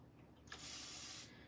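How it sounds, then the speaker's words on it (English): A hand-pump spray bottle mists plain water onto a painted craft board, a short steady hiss lasting under a second, close and fairly loud against quiet room tone. "All right, we're gonna spray it again."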